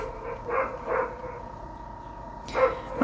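Small dogs bark in the background, a few separate yips spread out with pauses between them, moderately distant and alone without talking over them.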